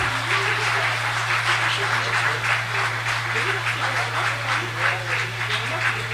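Audience applause after a quarterfinal chess match at the Bordeaux Grand Prix, a sustained, even patter of many hands clapping over a steady low electrical hum that continues underneath throughout.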